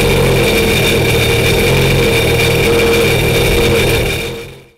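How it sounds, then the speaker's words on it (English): A jet ski engine runs loud and close in a steady, buzzing idle for several seconds, then cuts off and falls silent at the end. "it's going to start that engine."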